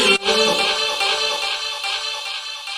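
Several pitched copies of one sample layered into a chord, including one five semitones up, ringing as a bright sustained tone with soft rhythmic pulses, unaccompanied by voice.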